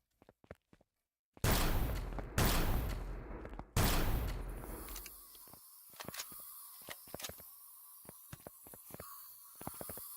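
Gunshots in the sci-fi survival game Empyrion, three loud booming blasts with decaying tails, followed by faint scattered clicks and ticks.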